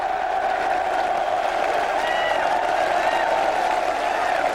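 Farnborough football fans applauding and cheering at the final whistle of an FA Cup tie, a steady dense wash of crowd noise with clapping and cheers that holds at an even level throughout.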